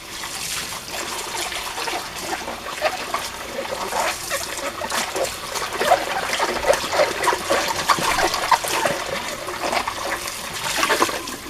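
Running tap water splashes and trickles over an oily dish as it is washed, a continuous close hiss with irregular splatters and scrubbing surges throughout.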